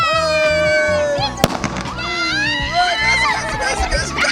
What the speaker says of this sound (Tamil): இப்போ ஒரு பட்டாசு வைக்க போறாங்க